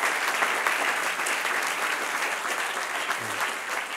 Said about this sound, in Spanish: Dale otro aplauso al que reina.